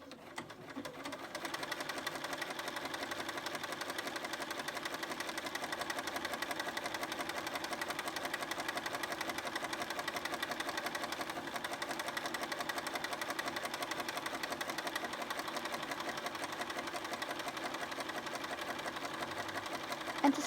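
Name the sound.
Bernina 5 Series sewing machine sewing a stitch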